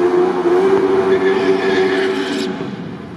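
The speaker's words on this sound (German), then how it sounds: "Der Super 7 Roadster ist mit Kawasaki ZX12 Motor ausgerüstet." A Super 7 Roadster race car fitted with a Kawasaki ZX12 motorcycle engine drones loudly past at Hockenheim during a public race day, a steady engine tone that holds strong before easing off toward the end.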